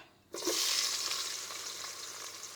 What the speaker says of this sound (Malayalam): ഇതൊന്ന് നന്നായിട്ട് ഇളക്കി ഉള്ളിയൊക്കെ നന്നായിട്ട് പൊരിഞ്ഞ് വരട്ടെ